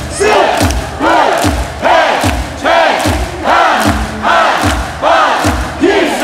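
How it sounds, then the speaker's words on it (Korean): Korean baseball stadium crowd at a Hanwha vs Doosan game, chanting a rhythmic cheer in unison with regular, loud beats of clapping and thumping drums repeating about every second, a dense roaring mass of voices throughout. "박수 준비! 박수 시작!"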